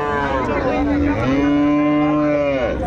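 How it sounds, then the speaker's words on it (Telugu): A young Jersey calf moos in one long, drawn-out call with a rising then steady pitch, close and loud, with a brief break partway through, at a livestock market. "దూడ అయితే ఇక్కడ కూడా మనకు ఒకటి జెర్సీ దూడ అయితే ఉంది"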